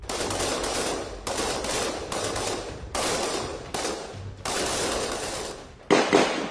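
Indian Army para special forces commandos fire at a firing range in about six long, loud bursts of rapid automatic gunfire separated by short pauses, with a sharp final shot.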